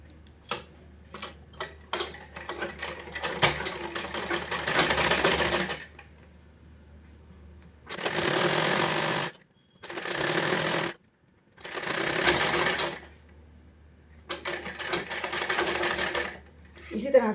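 A sewing machine stitches a double-folded hem on a plain frock in bursts: a few quick ticks, a long run, then three separate runs of stitching with short pauses between them, close and clear, with someone speaking Hindi at times.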